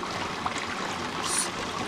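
Hot spring water in Idaho runs through an adjustable tube into a soaking tub, a steady close trickle and gurgle of flowing water that stays even throughout with no speech.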